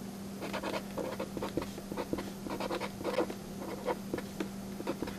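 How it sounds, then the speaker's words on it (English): A pen or marker writes out the chemical formula NaNO3, a run of quiet, close scratchy strokes in short bursts over a constant low hum, with no voices. "I'm going to write NaNO3"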